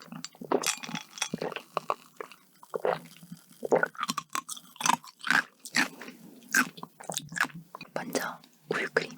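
Donut eating from a Korean dessert tasting of cream-filled, pistachio, crème brûlée, peanut butter and coconut donuts with milk and coffee: close, repeated soft bites and moist chewing with occasional faint clinks of glass, no talking.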